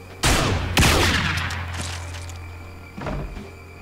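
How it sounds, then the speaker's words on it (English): Two heavy shotgun blasts boom out close together in the Manhunt video game, each with a long decaying tail, followed by a softer mechanical clack near the end. "Running out of shotgun shots."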